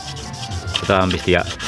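Wet sandpaper rubs over car bumper filler with water, close and scratchy, in a few short back-and-forth strokes, the last two strokes the strongest and most distinct.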